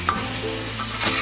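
Chicken pieces and a cooked-down spice paste with white pepper paste sizzle and get stirred in a pan while making chicken biryani, a steady close frying hiss with a few scraping stirs and no talk.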